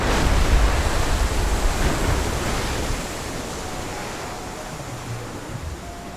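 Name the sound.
geyser erupting in video game Red Dead Redemption 2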